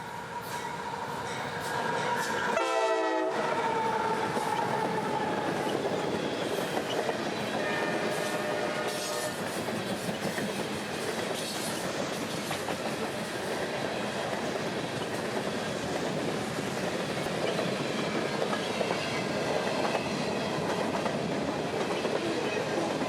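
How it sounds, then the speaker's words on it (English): A southbound freight train, M603, led by an AC44 locomotive, rolls past with a steady loud rumble and clatter of wagons, a brief horn blast near the start, no talking. "A YN2 AC44 would lead this guy south tonight with a healthy train of Lakeland-bound merchandise"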